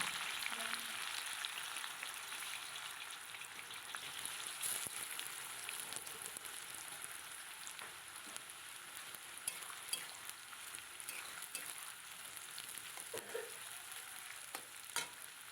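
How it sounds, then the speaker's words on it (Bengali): Chopped onions fry in hot oil with a steady, quiet hiss and sizzle that continues evenly throughout, with occasional faint crackles and no voices. "প্রথমে আমি পেঁয়াজগুলো একটু ভেজে নেব।"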